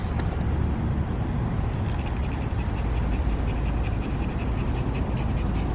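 A dog pants steadily at an outdoor dog park, rapid rhythmic breaths close to the microphone under a constant rush of wind and background noise, with no talk.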